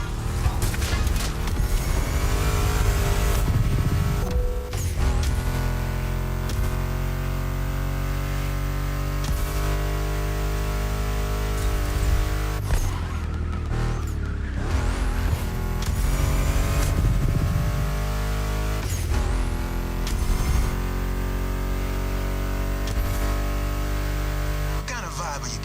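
A Ford Mustang GT muscle car in the video game The Crew Motorfest roars loudly and close, revving and shifting through gears with repeated sharp changes in pitch, blended with other game sounds.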